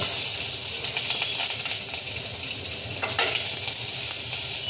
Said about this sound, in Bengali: এবার আমি এই তেলে ক্যাপসিকাম ভেজে নেবো